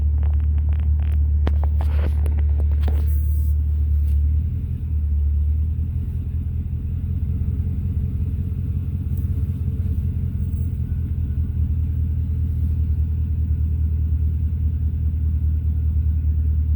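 A Lincoln Town Car idles with a deep, loud, rumbling dumped modified exhaust beside a dealership wall, steady and booming close by, with a brief rattle near the start.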